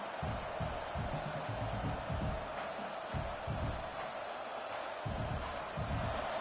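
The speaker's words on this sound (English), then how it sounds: "This crowd, full throat, splitting the eardrums and letting them know it's going to be a long day." A stadium crowd cheering in a football video game, a dense continuous roar that stays loud and full throughout with no talking over it.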